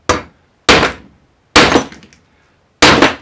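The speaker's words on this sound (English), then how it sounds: "So I'm just going to tap it gently with a hammer." A hammer taps a part into a Porsche 928 brake hub: four sharp, ringing metallic strikes spaced unevenly, each decaying quickly into silence.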